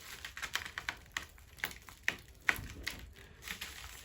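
Aluminium tape being pressed and smoothed along insulation edges under a van's sub floor frame, giving a run of light crinkly taps and crackles at an uneven rhythm, close and fairly quiet.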